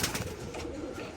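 A pigeon kept for tournament flying coos faintly in a steady low murmur beneath a hissy, noisy background.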